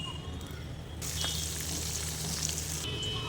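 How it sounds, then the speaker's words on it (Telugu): Flower samosas deep frying in hot oil, a faint bubbling sizzle that swells into a louder steady hiss at about one second, then eases back near the end, with no talk. "ఇలానే మిగిలిన వాటిని కూడా సెకండ్ బ్యాచ్ కింద ఫ్రై చేసుకుందాం."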